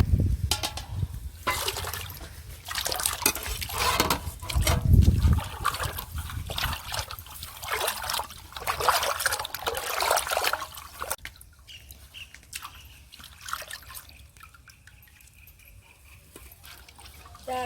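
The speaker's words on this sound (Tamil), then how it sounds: "இறால் நல்லா தண்ணீர் போட்டு கழுவிக்கலாம்." Raw prawns being washed in water for a biryani, with steady splashing and trickling, louder at first and then fading to quieter dribbles.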